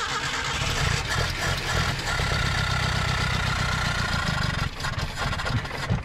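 An abandoned Datsun 620 pickup engine runs steadily at a rough idle up close, a continuous mechanical drone with a faint ticking rhythm in the background and no talk.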